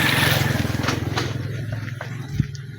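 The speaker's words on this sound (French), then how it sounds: "il y a une moto qui est passée" A motorcycle engine droning along a rural road in Congo, its buzzing note loud at first and then slowly fading as it moves away, with a faint voice faintly audible underneath.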